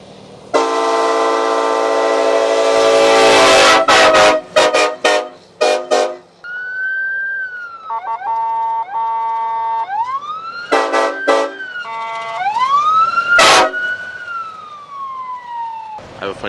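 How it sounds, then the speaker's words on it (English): Loud, sustained train horn blasts blare close by, a long steady tone followed by shorter bursts and rising, wailing pitches. "This is like the world's loudest train horn right here"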